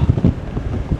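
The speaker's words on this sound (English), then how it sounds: "I'm going to say dangerously windy" Strong gusting wind batters the microphone on an exposed mountainside above Burnmoor Tarn, a loud, continuous low rumble with buffeting surges and no voices.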